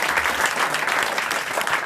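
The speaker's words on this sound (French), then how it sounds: "Qui applaudit comme ça?" Dense, steady applause from a studio audience fills the whole stretch at even loudness, with no talk over it.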